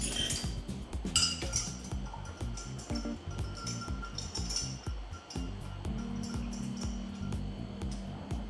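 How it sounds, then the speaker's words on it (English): A large block of ice stirred in a martini glass, giving a busy run of close glassy clinks and knocks that churn on without a break. "Just pop in a nice big block of ice to stir"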